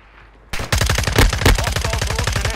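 Rapid burst of Glock pistol gunfire in Call of Duty: Modern Warfare II, loud and close, a steady stream of sharp shots starting after a quiet half-second and running to the end, no talk.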